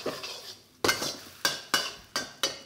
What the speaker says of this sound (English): just maneuvering that omelette around so it doesn't burn even on that high heat